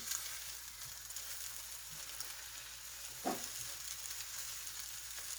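A thin mixture for pork and shrimp fried rice frying in a pan, a steady close sizzle throughout, with one brief scrape or thump as it is flipped over.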